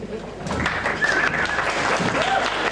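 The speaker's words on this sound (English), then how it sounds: "Thanks for the rudimentary applause" Audience applause at an album launch debate in 2002, a steady crowd clapping with scattered voices and cheers mixed in, fairly loud and continuous.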